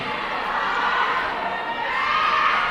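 A loud crowd of fans cheers and shouts in a school gym during a volleyball match, a sustained roar that stays steady and dense throughout.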